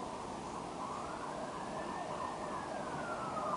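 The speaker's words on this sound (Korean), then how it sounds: "또 소방차가 지나가네요" A fire truck siren wails faintly in the distance as it passes through the city, a rising and falling tone sustained under steady background noise.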